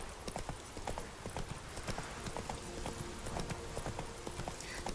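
Roach the horse gallops in The Witcher 3, hooves clip-clopping in a quick steady rhythm amid game ambience, with a brief whinny possible and some speech faintly mixed in.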